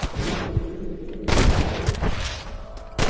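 Gunfire in Red Dead Redemption during a shootout with snipers, loud and dense bursts of shots layered into a continuous rattling fusillade with booming peaks, no talk over it.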